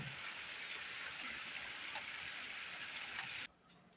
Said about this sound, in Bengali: এদিকে বৃষ্টি মানে থামার নামও নাই